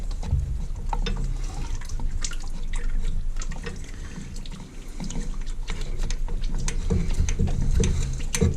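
Engine oil running out of a loosened filter on a vintage petrol engine, a steady liquid trickle and pour with scattered drips, close and fairly quiet throughout.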